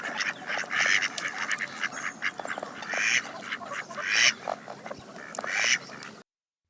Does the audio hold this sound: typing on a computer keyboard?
no